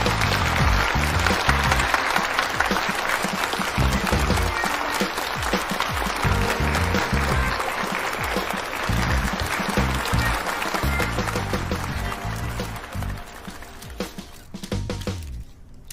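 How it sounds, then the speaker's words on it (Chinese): An audience claps to welcome a speaker at a product launch event, a sustained dense round of applause up close that tapers off near the end. "大家掌声欢迎"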